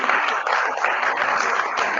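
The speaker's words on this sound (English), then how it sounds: "So big round of applause." An audience at a skill summit gives a dense, steady burst of clapping, close and continuous for a couple of seconds.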